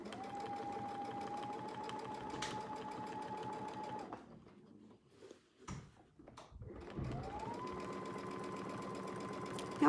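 A domestic sewing machine sews a quilt seam with a ruler foot and circle template, whirring steadily up close, pausing midway with quiet handling and fabric shuffling, then starting up again at the same even pace.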